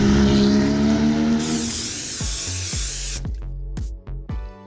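Leather cleaner is sprayed onto the leather seats of a BMW E36 M3: a long loud hiss at first, followed by a quick series of short spray bursts close by, with no talk.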